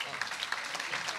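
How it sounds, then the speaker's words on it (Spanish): A short burst of steady applause fills a Senate hall during an event on women's impact on the economy, with the clapping moderately loud and continuous. "eso también merece un gran aplauso"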